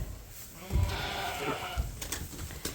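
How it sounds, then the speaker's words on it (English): Sheep bleating in a pen on a farm, several short calls close by over a low background murmur. "And so Andrew's 2 sheep are dewormed, and they have their red hearts put on them."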